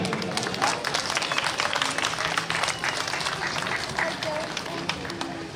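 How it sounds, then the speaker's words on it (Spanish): A carnival crowd in Sechura applauds the arrival of the Rey Momo at the burning of Ño Carnavalón, a loud, continuous rattle of many clapping hands with crowd murmur running beneath it. "Recibimos con fuertes aplausos al Rey Momo."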